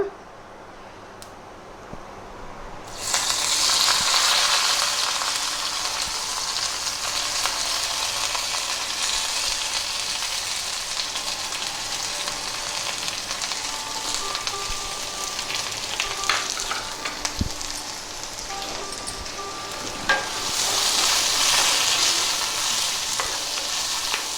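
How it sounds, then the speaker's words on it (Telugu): Onion pieces and curry leaves frying in oil with mustard seeds and cumin, which burst into a loud, close sizzle after a quieter start. Scattered spoon clicks and stirring run under the continuous crackle, and nobody speaks. "ఉల్లిపాయ ముక్కలు వేగుతున్నాయి కదా"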